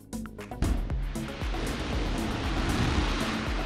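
An Orion spacecraft test article splashes down into a water basin, a loud, sustained rush and churn of surging water after a few sharp impacts, with no speech.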